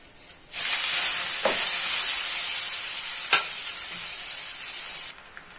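Chopped papaya dropped into hot ghee in a pan bursts into a loud, steady hissing sizzle that holds for several seconds, with a couple of faint stirring knocks, then cuts off abruptly; close, no voices.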